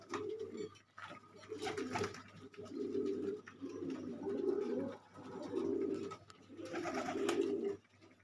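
Pigeons coo in repeated low, throaty phrases in a Gulgasht pigeon loft setup in Layyah, several birds overlapping almost continuously and close by, with a few soft wing flutters or clicks between calls.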